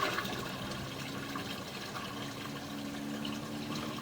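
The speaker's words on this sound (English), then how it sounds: "So the sump seems to currently be draining at this time." Water drains into a sump, a steady, low rushing and trickling wash that continues evenly throughout, faint and without voices.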